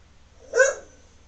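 A single short bark from a dog in the room, close and moderately loud, rising sharply out of near-quiet background hum and fading within a fraction of a second.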